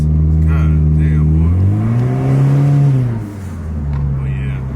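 A Honda Civic fitted with a new intake revs up and back down close by, one rising and falling engine note, with people talking around it.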